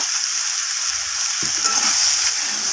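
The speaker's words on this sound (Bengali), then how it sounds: "দিয়ে আবারও এইভাবে কষিয়ে নেব" Red amaranth stems sautéing in a pan with salt and a little sugar give a steady, loud hiss of frying, with one soft spoon scrape partway through.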